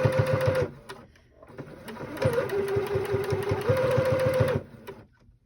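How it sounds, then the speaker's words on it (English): Sewing machine stitching along the side of a reusable fabric face mask with a filter pocket, a close steady rapid mechanical whir that runs, pauses briefly, then resumes for several seconds before stopping. "We're gonna sew the next side."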